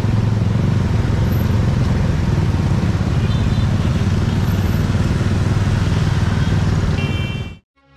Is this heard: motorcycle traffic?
yes